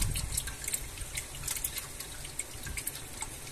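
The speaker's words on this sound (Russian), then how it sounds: "вода течет обратно" Water flows back between irrigation barrels, a steady splashing trickle with frequent bright drips and gurgles, near and alone.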